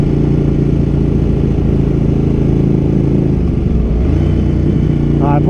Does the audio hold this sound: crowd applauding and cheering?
no